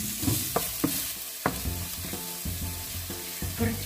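Garlic frying in a pan for a home-style pork and cauliflower stir-fry: a steady close sizzle punctuated by several sharp metal clinks of a spatula scraping and striking the pan.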